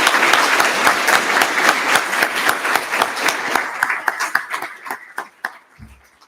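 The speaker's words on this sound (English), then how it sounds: "Another round of applause." Audience applause closing a law panel event, dense steady clapping from a crowd that thins into scattered individual claps and fades out near the end.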